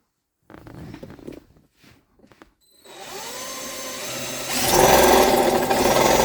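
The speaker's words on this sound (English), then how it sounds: "I will get to work drilling away" A power drill starts up and whirs steadily, growing louder and harsher as it bites into a 2001 Ford F350, after a few quiet knocks and rustles.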